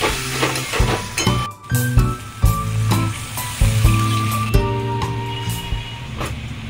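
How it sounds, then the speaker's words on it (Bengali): Warm water poured into a frying orange fish curry masala with green chillies and orange juice, a loud sustained sizzle and hiss with scraping stir clatter and bursts throughout. "নিয়ে উষ্ণ গরম জল দিয়ে দিলাম"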